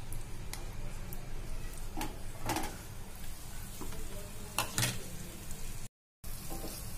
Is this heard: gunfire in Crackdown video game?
no